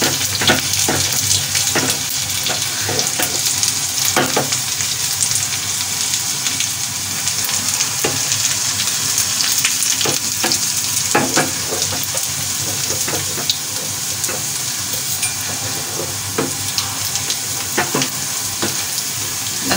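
Onion, garlic and whole chillies fry in oil for masoor dal, making a steady, close sizzle with occasional crackles and stirring scrapes throughout.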